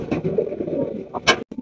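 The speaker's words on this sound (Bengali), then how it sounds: "দর্শক এখানে রয়েছে একজোড়া ব্লু বা লাহোরি কবুতর" A pair of blue Lahori pigeons at a fancy pigeon farm give close, loud rolling coos in quick succession, with a brief sharper call near the end and no talking.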